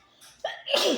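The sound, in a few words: sneeze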